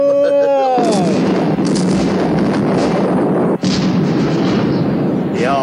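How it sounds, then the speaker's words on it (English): Loud, sustained explosions on a burning munitions ship in an animated tugboat scene, a rolling roar of blasts with a sharp crack partway through and a whistling tone before the first boom. "God, they were really big explosions."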